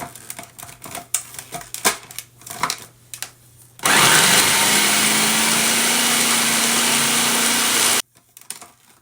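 A food processor blending a power ball mixture gives one loud, sustained whirring run of about four seconds that cuts off abruptly, preceded by light clattering and scraping of the bowl and lid.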